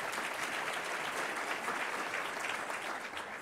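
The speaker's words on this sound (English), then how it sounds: "So let me give you a round of applause." Dense, even applause fills a room at an annual business luncheon, a continuous hiss of many people clapping at steady loudness throughout, with no voices rising above it.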